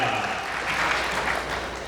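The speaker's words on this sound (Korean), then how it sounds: "다시 한번 뜨거운 박수 부탁드리겠습니다" A roomful of wedding guests claps continuously in the grand ballroom of Changwon's Grand Mercure hotel, a thick, even roar of applause sustained at full strength throughout.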